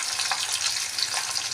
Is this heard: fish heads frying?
yes